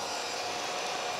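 A hair dryer or heat gun blows steadily while warming a part to soften it for fitting on a DIY electric car conversion, a constant airy hiss with no pauses.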